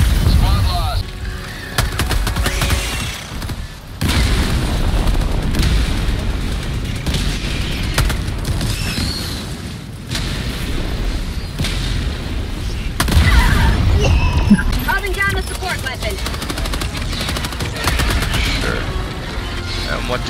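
Gunfire and explosions clatter through a video game firefight, with repeated loud blasts, bursts of shots and booms spread over twenty seconds, while people talk over the din.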